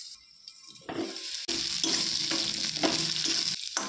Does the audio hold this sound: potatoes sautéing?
yes